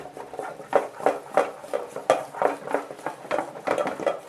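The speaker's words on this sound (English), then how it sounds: "Continue to stir until you have a homogeneous mixture." Spoon stirring a liquid soap mixture of sulfonic acid and texapon in a container, with repeated clinking scrapes against the vessel in a steady, fairly regular rhythm, close and moderately loud, with no talking.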